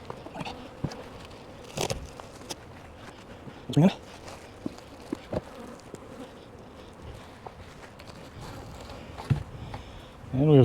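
Honey bees buzz around an opened hive box holding brood, a continuous near drone with individual bees zipping close past, alongside occasional handling bumps and clicks.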